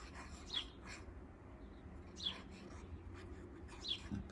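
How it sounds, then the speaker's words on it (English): Birds chirp outdoors in three faint, brief calls spaced about a second and a half apart over a quiet, low background hush. "The birds are singing."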